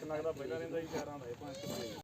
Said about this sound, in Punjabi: ਇੱਕ ਆ ਬੱਕਰੀ ਆ ਬਰਬਰੀ ਕ੍ਰਾਸ